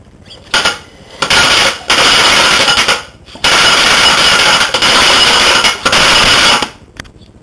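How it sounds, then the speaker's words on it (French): A loud, rapid mechanical chugging of a small trilobe annular piston engine running on compressed air, in several bursts, stopping and restarting with brief quiet gaps between. "pression, dépression, le moteur tourne."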